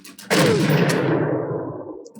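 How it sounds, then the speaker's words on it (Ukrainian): A single loud sniper rifle shot in a Sniper Elite video game cracks sharply, followed by a long rolling echo that fades over about two seconds. "ну влучу чи ні з першого пострілу"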